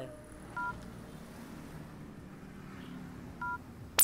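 A telephone being dialed gives two short keypad tones, one early and one near the end, faint against a low hum and followed by a sharp click.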